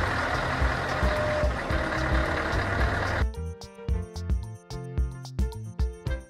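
A loud rumbling truck engine, then a regular pattern of sharp beeps with musical tones in the second half.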